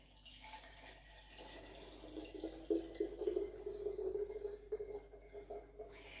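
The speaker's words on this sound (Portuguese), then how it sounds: "Então vocês põem uma cápsula, dá lá dentro, assim, põem água quente." Hot water pouring into a coffee capsule machine during home cleaning, a quiet trickling, splashing flow that swells in the middle and then tapers, close by with no talk.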